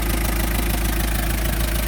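Old Hyundai Porter truck engine running roughly: a steady, loud, low rumbling idle with a rough, uneven texture, heard up close and continuous, with no voices.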